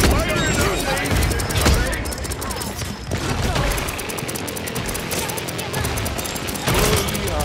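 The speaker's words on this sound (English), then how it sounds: "Enemy fire! Five in a row." Gunfire in the Paladins video game, dense and continuous rapid shots with loud bursts throughout, layered with game effects and a voice briefly heard.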